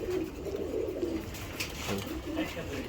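Soft, low cooing of a female racing pigeon repeats in short rolling phrases against a busy background hum.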